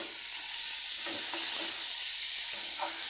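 Onions and spices sautéing in a pan, a steady close hiss of frying with a few soft stirring scrapes, alone with no talk.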